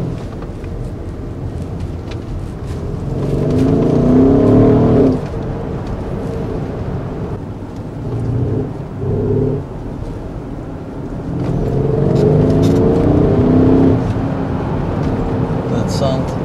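A Mercedes ML 63 AMG with a 5.5-liter V8 biturbo accelerates in two strong surges of deep engine roar, separated by a quieter stretch of steady cabin and road noise.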